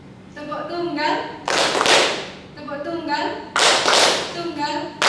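Students in a classroom clap their hands together in a call-and-response clapping game, with two loud bursts of clapping separated by a voice giving instructions.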